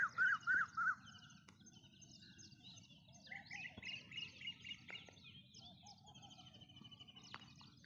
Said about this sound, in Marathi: असं पक्ष्यांचा आवाज